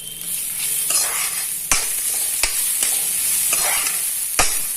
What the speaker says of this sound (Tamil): இப்போ நான் இந்த கிரேட்டட் கோகோனட்டை இதில் போட்டுட்டு ஒரு அரை நிமிஷத்துக்கு நல்லா வதக்கி எடுத்துட போகிறேன்